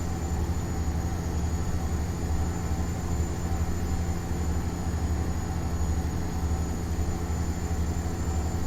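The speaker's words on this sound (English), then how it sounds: "There's a little train." A train passing in American Truck Simulator, heard as a steady, even rumble with a faint high whine running throughout, with no voices over it.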